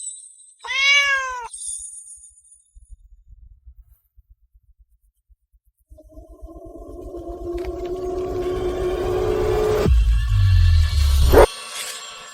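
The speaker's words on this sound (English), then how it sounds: "Little kitty, why are you all alone?" A lone kitten gives a short burst of high, rising meows near the start, followed by quiet ticking and then a swelling wash of louder mixed noise toward the end.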